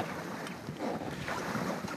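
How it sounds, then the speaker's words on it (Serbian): A rescue boat crewed by six rescuers is rowed in unison through cold water during an earthquake rescue exercise in Kragujevac, giving rhythmic splashing strokes over steady wind and lapping water, with no voices. "Šest pripadnika sinhronizovanim, ujednačenim veslanjem dolaze do osobe koja je oko 30 metara udaljena od obale"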